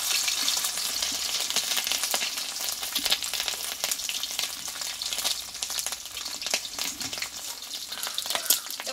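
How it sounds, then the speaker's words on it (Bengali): Fish roe fries in hot mustard oil for a Bengali ash gourd dish: loud, close, constant sizzling and spitting, with scattered crackles and pops throughout and no talking. "মাছের ডিমটা আমি একটু ভেজে নেব।"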